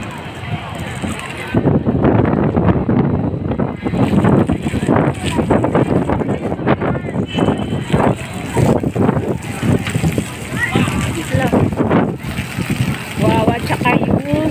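Loud wind buffeting the microphone outdoors at Sky Garden, SM Mall of Asia, with people talking over the rushing gusts.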